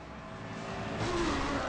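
A car engine revs in Need for Speed played on an iPad, a short rising roar that swells louder toward the end.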